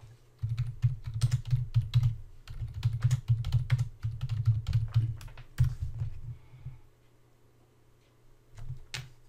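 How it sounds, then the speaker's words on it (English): Typing on a computer keyboard while a browser is open on a Windows PC: quick, close, steady key clatter in bursts that pauses briefly, goes quiet near the end, then resumes with a few final keystrokes. "And we'll type in"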